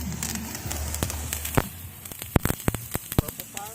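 Fireworks burning with green fire give off irregular crackles and sharp pops that grow busier toward the end, over a steady low rumble, with people talking nearby.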